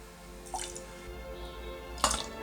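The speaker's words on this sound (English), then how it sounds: "I'm gonna take some water out from top carefully." Water is carefully drawn off the top of a homemade experiment, giving two soft, close liquid drips or splashes about a second and a half apart over a quiet background hum.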